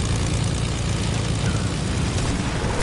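Airplane engine in a video game, a loud, steady propeller drone with a heavy low rumble, continuous and close throughout with no talk.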